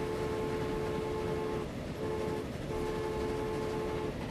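A train runs along the track in a railway video game, a steady rumbling with sustained tonal hums that briefly dip and return, heard alone at moderate volume.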